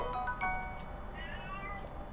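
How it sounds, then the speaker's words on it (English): Inside a Zelda: Tears of the Kingdom game world, a cat gives a few short, faint meows over a steady background hum of ambient game audio. "You can hear the cat."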